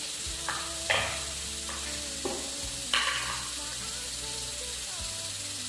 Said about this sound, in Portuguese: Piquei cebola para colocar aqui nas panelas